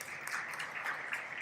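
Brief burst of audience clapping at a conference honoring its speakers, a dense even patter of many hands filling the whole moment without voices.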